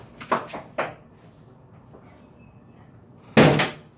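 The hood latch of a Mercedes E55 gives a few quick clicks, followed by a louder sharp clack as the hood pops open. The sound is close by and stands alone against a quiet background.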